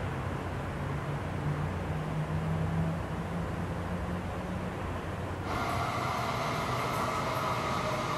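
A Taiwan High Speed Rail Shinkansen-type train on a test run rolls steadily along the rails with a constant roar and low hum, and a higher whine joins partway through. There are no voices.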